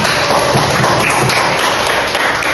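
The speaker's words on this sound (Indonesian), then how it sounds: "beri aplaus untuk kelompok 1" A classroom gives a group of students a round of applause: dense, even clapping from a small crowd, heard close and steady for a couple of seconds.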